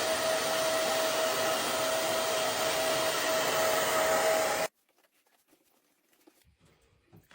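A hair dryer blowing steadily on hair with a loud, constant whooshing hum and a faint whine, cutting off abruptly partway through and leaving near silence with faint rustling.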